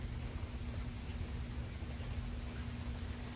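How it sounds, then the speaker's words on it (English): Light rain falling steadily, heard from a porch during a thunderstorm on a homestead, a soft even hiss of drops with a faint low rumble underneath and no talking. "And now it sounds like we're getting a little more rain."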